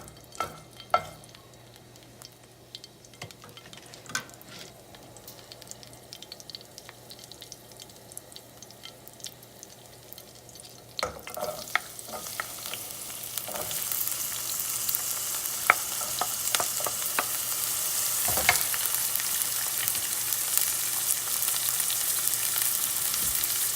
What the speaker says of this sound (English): Onion is getting fried.